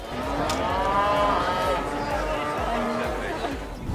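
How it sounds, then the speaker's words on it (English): A miniature Belted Galloway cow lets out a long, drawn-out moo nearby, with people talking in the background. "The miniature Belted Galloway, or Belties if you're friendly, is one of the world's smallest cows."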